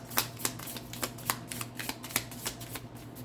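A tarot card deck being shuffled, with a rapid run of crisp riffling bursts repeating at an even pace, close and fairly quiet, with no talking.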